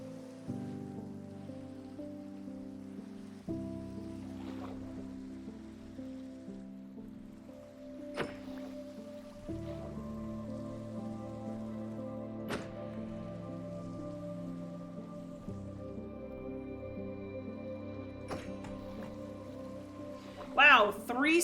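Steady rain patters in Minecraft, a gentle, even hiss of drops layered under drawn-out musical notes, with a few sharp clicks and a brief louder splash near the end.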